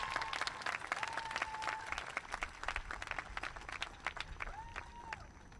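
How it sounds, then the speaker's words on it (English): A commencement crowd claps for teachers, steady moderately distant applause with individual claps audible and brief faint voices mixed in. "a big round of applause to our teachers"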